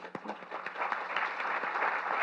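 Audience applause at an award ceremony, a room full of clapping hands that builds quickly into a steady, dense round lasting a couple of seconds.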